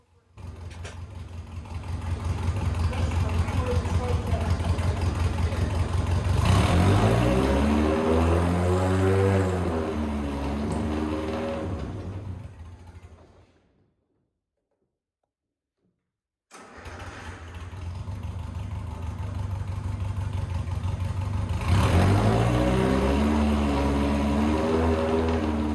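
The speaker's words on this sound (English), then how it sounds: "So we're revving it up a bit, trying to get some inertia in the engine flywheel" Lotus 7 Birkin S3 engine with a frozen, stuck clutch, revved loudly in two long sustained bursts with rising and falling pitch, separated by a few seconds of silence.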